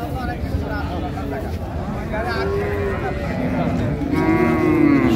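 Improved-breed cows and calves moo repeatedly at Raniganj cattle market in Dinajpur, with several drawn-out calls near and far over a constant crowd murmur and people talking.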